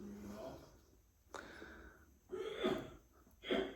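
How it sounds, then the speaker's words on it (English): A single sharp sneeze bursts out, followed by a couple of breathy, sniffly exhalations close by, fairly quiet overall. "he's sneezing"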